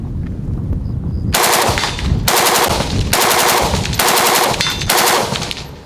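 Steyr AUG A2 rifle with a preban LMG barrel firing 5.56 M193 55-grain ball ammunition outdoors, five loud rapid bursts of automatic fire separated by short pauses, with no talk.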